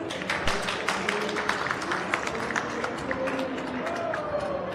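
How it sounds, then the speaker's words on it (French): Audience applause for a voice actor at a convention panel, a steady patter of many hands clapping, with distinct sharp claps standing out, moderately loud, and faint crowd voices underneath. "vous pouvez l'applaudir à nouveau"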